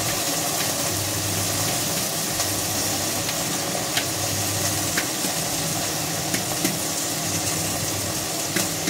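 Green chillies cook in a covered pan over a low gas flame, giving a steady, close sizzle and frying hiss with faint crackles and occasional soft clicks, continuous throughout with no talking.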